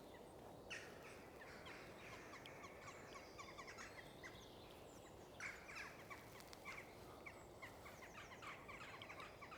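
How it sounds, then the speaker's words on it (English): Crows cawing and other birds calling in a graveyard on a quiet morning, repeated harsh caws at moderate distance over a soft steady background hiss. "Birds are active this morning"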